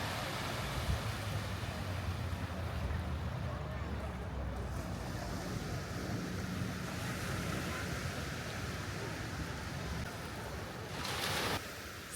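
Surf washes steadily onto shallow, gently sloping sand at Kata Beach in Phuket, Thailand, a continuous broad roar mixed with wind buffeting the microphone, with no voices.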